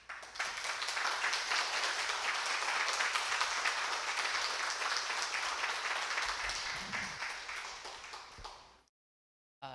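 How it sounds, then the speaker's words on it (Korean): A church congregation gives a hearty round of applause welcoming a missionary. The clapping is full and continuous for about nine seconds, then tapers and cuts to silence. "좀 힘찬 박수로 좀 환영의 박수 한번 해주시기 바랍니다"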